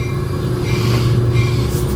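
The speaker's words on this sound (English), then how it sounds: "There's my train." A train rumbles steadily with a low, continuous drone and rail noise, fairly close and loud throughout, with no talking.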